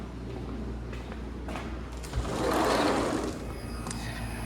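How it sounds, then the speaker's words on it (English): A household air conditioning unit runs with a steady, close whirring hum, broken by a few faint mechanical clicks and rattles and a brief swell of airy rushing partway through. "I'm gonna go check and see what the AC sounds like real quick"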